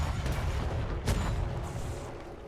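Ship cannons firing in a pirate-style video game, a dense rumbling barrage with one sharper boom standing out partway through, steady and fairly loud.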